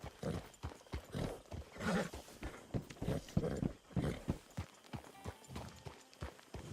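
Horse hooves clip-clop in an uneven rhythm under a steady ambient bed, with a few louder thumps and snorts mixed in, in the video game Red Dead Redemption 2.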